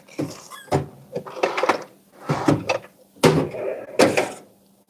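Drawers of a tool chest clunk and rattle open and shut during a search for a tool in a BMW repair session, a quick, irregular series of close wooden and metal knocks and slides.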